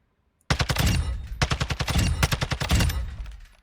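Sustained automatic bursts from a loadout weapon in Warzone 2, a rapid, loud, close string of shots in a few long volleys with brief gaps, ringing off at the end, with no talking.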